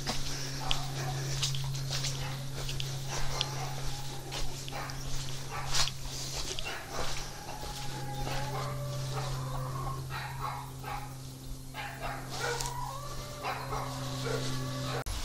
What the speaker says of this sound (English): some dogs keeping us company